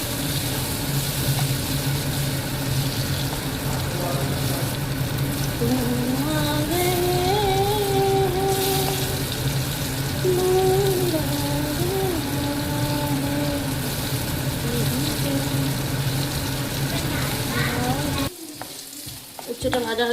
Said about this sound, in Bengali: তেলটা গরম হয়ে গেছে, এবং উচ্ছেটা ভেজে নেব।